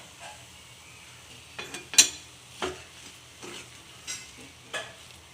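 Spice masala powder stirred in a frying pan, with short scraping and clinking strokes of a spoon against the pan at an irregular pace over a faint sizzle, close and fairly quiet.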